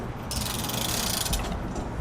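A ratchet crank clicks steadily as a ladder rack is lowered on a work van, a close, dense mechanical ratcheting with no voices.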